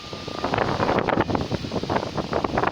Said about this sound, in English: it's windy crazy